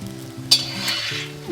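Potato chips fry in hot grapeseed oil, giving a steady close sizzle and bubbling with a brief stirring clink, over quiet background music.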